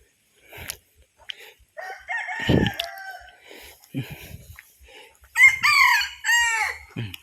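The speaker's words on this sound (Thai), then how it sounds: "ไก่ขัน ไก่ขันสวยมากเลย" A rooster crows loudly and close by in rural Thailand, a few calls separated by pauses, with clucking and short fowl sounds between them.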